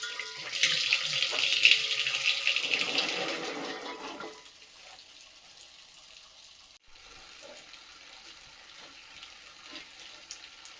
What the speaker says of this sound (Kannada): ಇನ್ನು ಈ ಮೆಣಸನ್ನು ಫಸ್ಟ್ ತೊಳಿಬೇಕು ಕ್ಲೀನಾಗಿ